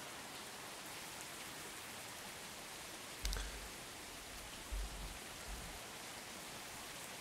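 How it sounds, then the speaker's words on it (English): Steady rain falling in the air traffic control game Tower! Simulator 3, a constant hiss with a few dull low thumps partway through. "What's the weather like? It sounds like it's raining."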